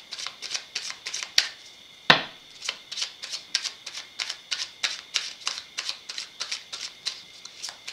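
Tarot cards being shuffled by hand in steady, rapid riffling bursts, close and crisp, with one sharper knock partway through and no talking.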